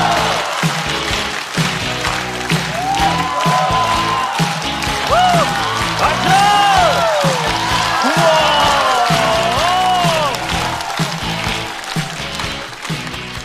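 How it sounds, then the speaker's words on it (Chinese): Audience applause and cheering at a stand-up comedy show greet a new comedian walking on, steady and dense through the whole stretch, with an upbeat music sting and a host's voice mixed over it. "让我们掌声欢迎"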